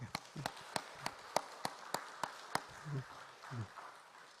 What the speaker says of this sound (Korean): 우리 축하 박수는 한번 해봅시다.